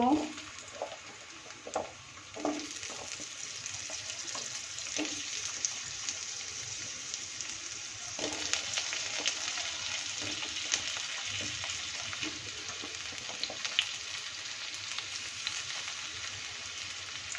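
Potatoes and mixed vegetables, pumpkin, carrot, eggplant and drumsticks, drop into frying spices for a Bengali vegetarian dish, with a loud continuous close sizzle, stirring scrapes and a few clanks.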